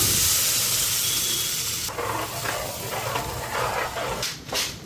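A loud burst of hissing as water hits a hot pan, settling into a softer bubbling sizzle with sharp spitting crackles near the end.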